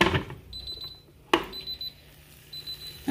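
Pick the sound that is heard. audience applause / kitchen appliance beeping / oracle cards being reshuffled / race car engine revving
kitchen appliance beeping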